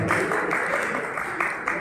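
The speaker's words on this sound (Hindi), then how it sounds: "जोरदार तालियां।" A crowd at a Bikaner Punjabi community stage event applauds as a guest comes on stage. The clapping is a steady, fairly loud wash, with voices mixed in underneath.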